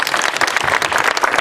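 An audience in Gonaïves, Haiti claps for Cité Soleil at a public event: a brief, loud, dense patter of hands close by with no talk over it.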